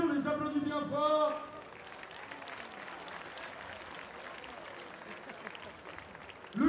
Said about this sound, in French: à cause de toi, Mehdi, on les applaudit bien fort.